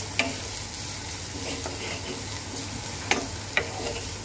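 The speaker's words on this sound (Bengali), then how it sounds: "তো পেঁয়াজটা ভাজা হোক" Chopped onion and green chilli fry in a pan with a constant close sizzle, broken by a few sharp scrapes and taps from stirring.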